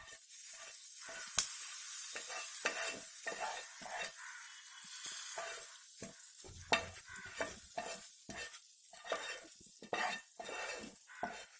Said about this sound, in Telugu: ఈ పచ్చడిలో పోపు వేసుకుందాం.